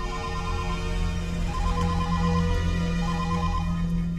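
A telephone rings back in repeated electronic bursts while a call is being placed, steady and clear over a constant low hum, with no talking.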